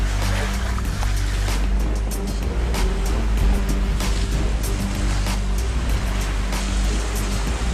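Steady rushing water with churning Mediterranean surf, overlaid by a constant low boat motor hum, no voices.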